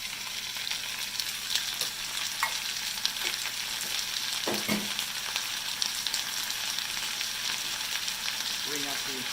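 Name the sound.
vegetables and ginger frying in a pot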